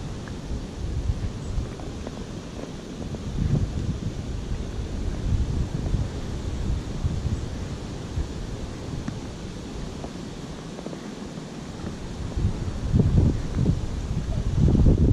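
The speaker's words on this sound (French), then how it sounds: "Mais là avec le vent, c'est vraiment pas facile." Strong wind buffets an outdoor fishing spot, a continuous loud low roar of gusts battering the microphone that swells and eases without pause; no voices.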